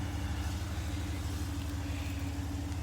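A 2019 RAM 1500 Crew Cab Big Horn 4x4 with a Hemi V8 idles steadily with its climate control running, a constant low rumble and hum throughout with no change in pitch and no talking.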